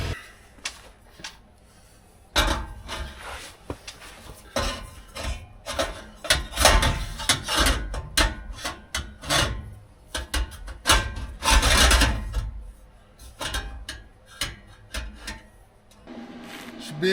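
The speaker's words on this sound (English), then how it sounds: "we'll clean these up with a little sander" A small handheld sander works over the welds on a stainless steel exhaust pipe for a K5 Blazer, giving close, irregular bursts of grinding and rubbing with short pauses between passes.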